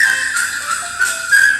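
A New Orleans-style recording of a song plays, its bright, steady whistled melody sustained throughout over soft instrumental backing, with no voices.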